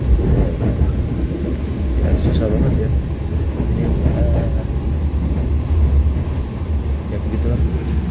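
Steady rumble and rattle of the KA Parahyangan executive train running on rails past Sasaksaat station, heard from inside the carriage as a continuous low roar with faint clanks.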